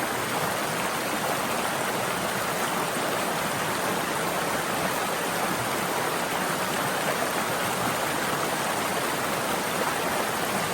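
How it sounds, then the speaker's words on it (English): A rocky brook cascades steadily down over boulders, a loud, continuous broadband rush of water that stays even throughout with no voices. "This is a cool brook. Look how it just cascades down."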